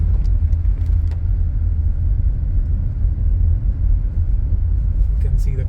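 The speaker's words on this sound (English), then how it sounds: "You can see the cars going there." Steady low traffic rumble from cars passing on Highway 50 near Placerville, continuous and fairly close, with a voice talking over it.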